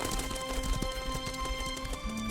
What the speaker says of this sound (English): Wimarc spun the horse around and galloped away.